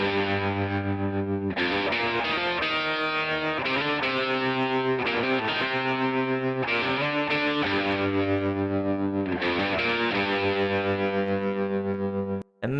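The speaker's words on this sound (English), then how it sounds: "So I think we may have too much distortion just listening to it." A heavily distorted electric guitar plays a riff through an effects chain, with sustained, thick chords and brief pauses between phrases, loud and alone, ending in a sudden cut.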